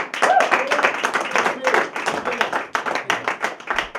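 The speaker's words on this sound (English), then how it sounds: "Please give a big round of applause for Mr. Jeff Albright." A comedy-show audience claps to welcome comedian Jeff Albright to the stage, a close, lively burst of individual hand claps with a distinct rhythm, sustained for several seconds and thinning toward the end.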